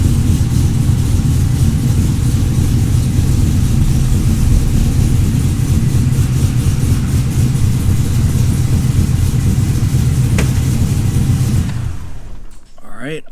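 Steady, close idle of a supercharged LSA V8 in an F-body car fitted with boost-referenced dual fuel pumps: a constant low rumble that holds even for about twelve seconds, then cuts off abruptly.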